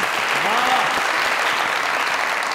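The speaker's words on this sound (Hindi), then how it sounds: "तालियां।" A television comedy show's studio audience breaks into steady, full applause. A voice briefly sounds through the clapping.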